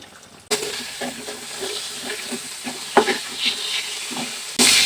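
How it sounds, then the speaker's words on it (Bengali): Chicken pieces fry in hot oil on a gas stove turned down low, a steady bubbling sizzle with scattered spatters and stirring clinks, louder bursts at the start and end. "এটা ভাজতে কমপক্ষে 10 মিনিট আমার সময় লাগবে"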